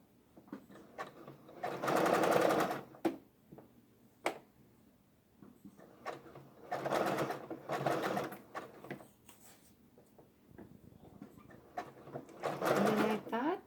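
Janome MB-series embroidery machine (MB4/MB4S/MB7) stitching an appliqué quilt-in-the-hoop block, with three loud bursts of rapid mechanical needle chatter separated by quieter pauses, light clicks and handling noises.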